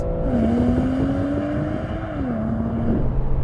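A car launching hard in a drag race on a runway pulls with a rising engine drone, shifting up twice in a few seconds, heard steadily from inside over a dense background rumble.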